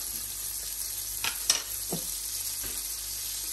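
About two spoons of butter sizzling in a pan for whisky tiger prawns: a steady, close frying hiss with a few faint clicks and taps over it.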